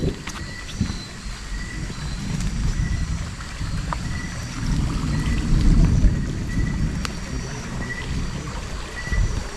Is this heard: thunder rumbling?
yes